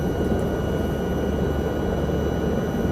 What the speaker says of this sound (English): trying to balance both cyclic collective and anti-torque pedals to keep the helicopter stable